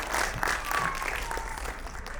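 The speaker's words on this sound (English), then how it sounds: "Big round of applause for Janice ma'am." Audience applause at a school annual day in Kharghar, a brief burst of clapping from a crowd that fades slightly toward the end, with a faint voice underneath.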